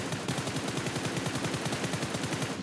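An automatic weapon fires a steady, rapid stream of shots in PUBG Mobile, one continuous loud burst with an even rhythm lasting under three seconds.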